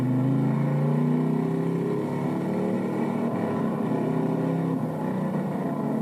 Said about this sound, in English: Let's exercise the motor and listen to it, see how it sounds.